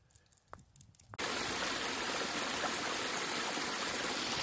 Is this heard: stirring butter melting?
no